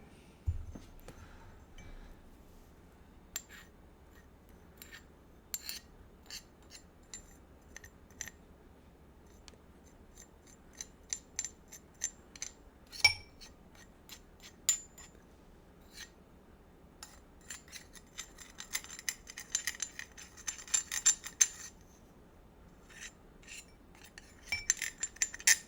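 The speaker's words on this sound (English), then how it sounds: "I'm gonna scrape some of it off with a spoon" Metal spoon scraping muddled paste off a cocktail muddler while mixing an Old Fashioned with Ragtime Rye, heard as quiet, close scattered scrapes and light clinks that grow busier toward the end, with no talking.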